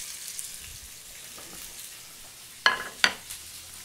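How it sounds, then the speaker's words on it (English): Halibut fillet searing seasoned side down in hot olive oil in a pan, giving a steady soft sizzle with two sharper spattering bursts near the end; no one talks. "While that's searing, making that sizzling noise"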